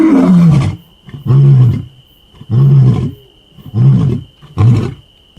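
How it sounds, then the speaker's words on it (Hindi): A lion roars close by in a jungle, five deep, throaty bursts about a second each with short pauses between, loud and alone with no voices. "ये शेर की आवाज"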